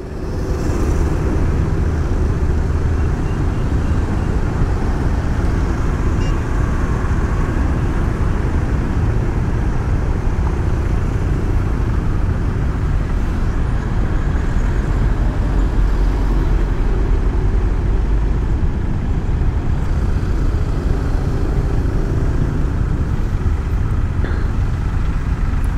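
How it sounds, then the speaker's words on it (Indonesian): Heavy traffic on a busy main road in Denpasar, Bali, with large cars and other vehicles passing close by. A loud, continuous engine rumble and road roar runs without a break, and no speech is heard. "Ramai, mobil-mobil besar-besar gitu ya."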